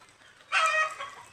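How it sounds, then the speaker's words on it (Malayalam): A chicken gives a single short, mid-pitched clucking call up close, rising out of a quiet background and trailing off after about half a second. "കോഴികളുണ്ട്"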